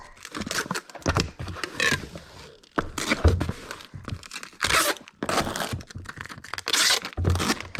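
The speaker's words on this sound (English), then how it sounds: "So I'm going to get that all taped up." Packing tape is ripped off the roll and pressed down to seal a small 8x6x4 cardboard box, heard as several close, loud tearing and crinkling bursts separated by short pauses.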